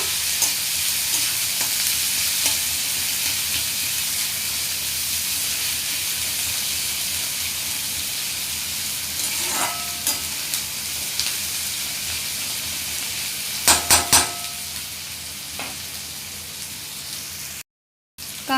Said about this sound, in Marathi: कांदा चांगला सोनेरी रंगाचा होईपर्यंत आपल्याला भाजून घ्यायचा आहे